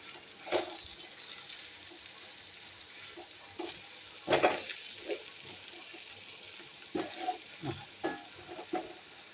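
Mushroom curry masala is stirred in a pan with a quiet background sizzle. Several scraping spoon strokes come at uneven intervals, the loudest a bit before the middle, and no one speaks.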